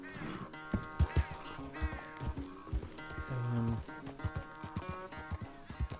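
Horse hooves clopping in uneven bursts while riding across open land in Red Dead Redemption 2, with a brief whinny and music tones and a voice talking over the game.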